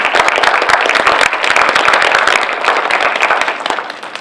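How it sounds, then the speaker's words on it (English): Dense, lively clapping from an audience welcoming panelists at a discussion event, continuous and close for the whole stretch, with no speech over it. "Now let's give them a big round of applause."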